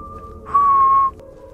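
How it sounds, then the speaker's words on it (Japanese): Someone whistles a single steady, sustained note in the horror video game Choo-Choo Charles, clear and fairly loud over a low game-ambience drone, lasting about half a second. "誰かが口笛を吹いてるね。"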